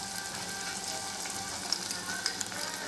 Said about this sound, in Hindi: सो गाइस अभी हम कॉर्नफ्लोर में वाटर डाल के उसको इस सॉस में डाल देंगे